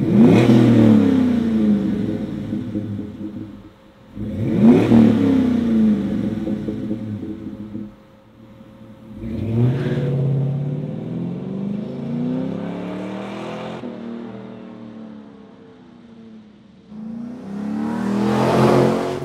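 A deep car exhaust through a Flowmaster performance muffler rumbles through several rev cycles, each rising then falling, with short lulls between bursts; steady, moderately loud, no talking.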